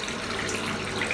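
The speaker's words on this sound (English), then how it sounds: "that's dripping like crazy" Water escaping from a leaking, warm hot water cylinder in a domestic plumbing setup, a steady hissing spray rather than separate drips, close and continuous throughout.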